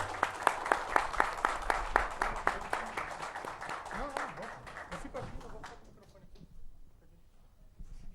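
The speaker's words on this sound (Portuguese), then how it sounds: "Uma salva de palmas para os dois" An audience claps in a steady rhythm for about five seconds at a book-signing talk with Santos F.C. authors, with voices underneath, then the clapping fades out.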